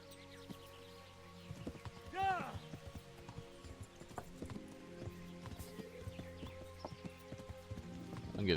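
A horse's hooves clip-clop in the video game Kingdom Come: Deliverance, a quiet, steady rhythm with one brief whinny early on, while someone talks over it throughout.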